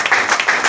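Church congregation applauding God during a Spanish-language service, a brief burst of dense, steady clapping, fairly close and loud.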